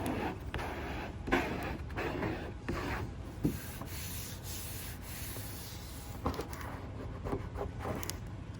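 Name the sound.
smoothing bubbles out of applied racing stripe vinyl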